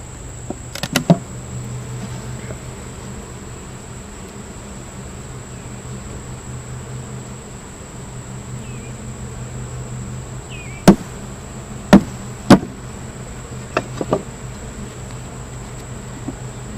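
Honeybees hum inside a small nuc hive during a beekeeper's inspection. A steady, close, low buzzing drone runs throughout, punctuated by a few sharp knocks and taps from handling the hive equipment.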